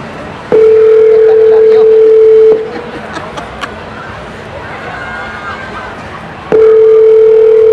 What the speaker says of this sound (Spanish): Iniciando videollamada con Jorge